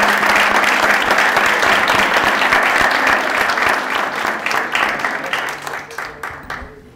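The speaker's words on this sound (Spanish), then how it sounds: "Le damos por favor un aplauso a Rodolfo y al arquitecto." Loud, dense audience applause after an architecture lecture, close and sustained, thinning and tapering toward the end with scattered individual claps.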